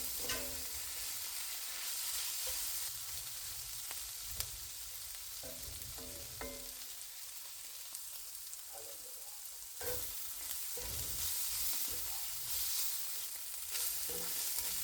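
Steady frying sizzle, with what the cook describes as round pieces browning until tender in a pan, likely onions and jalapeños for a smoked stuffed pork loin; a continuous close hiss runs throughout with occasional stirring clicks and no talk.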